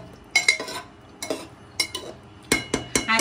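A spoon stirs chicken handi with fresh cream in a pot, scraping and clinking in short uneven bursts, close and fairly loud, with no one talking.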